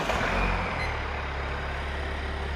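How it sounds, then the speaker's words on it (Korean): A diesel SUV engine runs at a steady idle just after starting, with a low, even rumble close by and no talk. "자, 시동 거세요."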